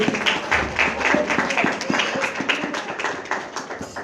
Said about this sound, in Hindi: खुदा यीशु के जलाल के लिए, खुदा के खादिम के लिए जोरदार तालियां बजाएंगे